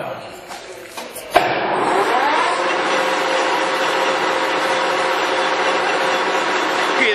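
A Leblond Regal 19-inch by 150-inch metal lathe spins at its top speed of 1,000 RPM, giving a steady loud mechanical whir and rumble after a sharp thump early on, continuing evenly to the end.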